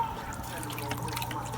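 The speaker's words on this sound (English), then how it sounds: "And right now there's such a small trickle" A small trickle of dirty water runs and drips out of a bucket, a steady soft liquid patter heard up close throughout.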